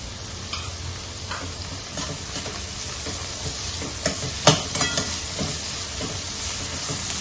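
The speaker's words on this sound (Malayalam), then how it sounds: "എണ്ണയിൽ കിടന്ന് നന്നായിട്ട് വഴന്നു വരണേ. ഉണ്ടാ നന്നായിട്ട് വഴറ്റിയെടുക്കാം." Onion and salt sautéing in hot oil for a salmon curry, with a continuous sizzle broken by scattered scraping and stirring knocks, including a sharper clack midway.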